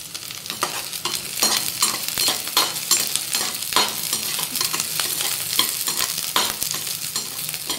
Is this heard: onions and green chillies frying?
yes